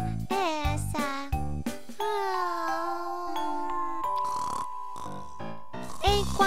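A cartoon girl snores in a children's animated story, drawn-out nasal snores rising and falling in a slow rhythm alongside tinkly music and a narrator's voice, clearly a voiced imitation.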